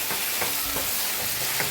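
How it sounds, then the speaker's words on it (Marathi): Tomatoes stirred into onion and ginger-garlic paste in a hot pan, a steady sizzle and fry with soft rhythmic scrapes of the spoon repeating about every third of a second, close and continuous. "तर आता ह्याच्यात आपण टमाटर घालूया. टोमॅटो घातल्यावर एकजीव करून घेऊया."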